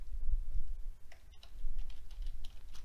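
Fast, light keystrokes on a computer keyboard, steady clicking taps close by over a low background hum, with no talk.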